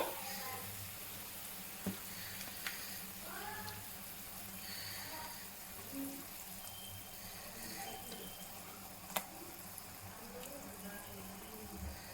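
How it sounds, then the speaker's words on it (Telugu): Faint, steady bubbling and hiss of water boiling in a pot for fish curry, just before the fish pieces go in, with a few soft clicks and taps scattered through. "ఇది వాటర్ బాయిల్ అవుతుంది"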